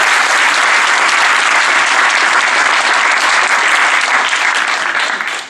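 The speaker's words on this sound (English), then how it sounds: "Please give them a round of applause." Loud, sustained applause from a debate audience welcoming an atheist team, thick continuous clapping that fills the space and tapers slightly at the very end.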